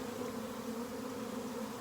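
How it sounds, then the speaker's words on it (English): A honeybee swarm ready to draw comb and settle a new home in Hawaii hums in a steady, dense drone of many wings, close and continuous throughout with no voices. "That's a lot of bees"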